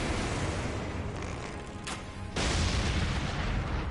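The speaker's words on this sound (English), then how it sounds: "How are you not affected by that explosion?" A booming explosion in the video game Elden Ring, with a loud, dense burst that swells abruptly and holds steady under continuous game noise.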